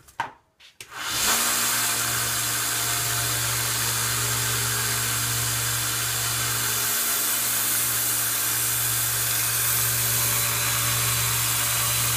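A belt sander running a 320 grit belt sharpens a knife, starting up after a couple of knocks and then holding a steady, loud abrasive whir with a constant motor hum throughout.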